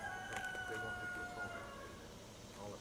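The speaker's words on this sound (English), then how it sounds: "I love hearing roosters in the city." A rooster crows faintly in the distance in a city neighbourhood, one drawn-out call set against a steady urban background hum.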